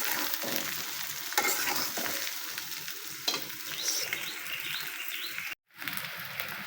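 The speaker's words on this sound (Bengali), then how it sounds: "ডিমগুলো প্রথমে সিদ্ধ করে খোসা ছাড়িয়ে নিয়ে এখন একটু লবণ হলুদ দিয়ে হালকা করে ভেজে নিচ্ছি" Peeled boiled eggs with salt and turmeric frying lightly in a pan in a village kitchen give a steady, close sizzle. Birds chirp faintly in the background, and the sound drops out briefly near the end.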